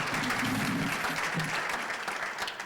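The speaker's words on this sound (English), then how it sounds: "So please applaud." An audience applauds at a roast event honoring a community figure in Biloxi, a dense, steady clapping from a sizable crowd that slowly fades over a few seconds.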